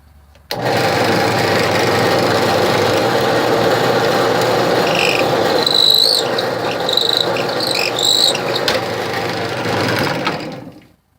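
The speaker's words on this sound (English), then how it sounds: "And then I'm going to drill a hole." A power drill whirs steadily through wood for about ten seconds, with brief squeaky pitch changes as the bit bites, then winds down.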